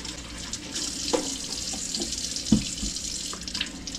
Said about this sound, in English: So we are going to wash them first. Give them a good scrubbing.